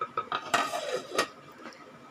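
A lid set onto a pot of simmering mor kulambu, a short series of close metallic clinks and clatters followed by a brief quiet rattle.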